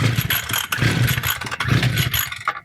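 A broken petrol strimmer engine starting up and revving in rough bursts, loud and close, sputtering with uneven surges before cutting out abruptly.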